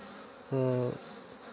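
Bees on their first flight buzz near a hive, one brief loud drone lasting under half a second over faint background hum.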